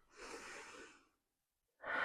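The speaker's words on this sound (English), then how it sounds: "Take a big breath in." A big breath drawn in during a yoga flow, one soft airy inhale lasting about a second, close and quiet, followed by silence and then the start of a louder sound.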